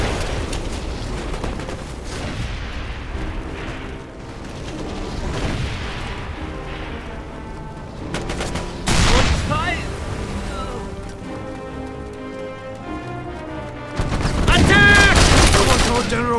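Heavy gunfire and explosions in the Mercenaries 2: World in Flames video game, with dense bursts of shooting and loud blasts across the clip, strongest near the end, mixed with game music and effects.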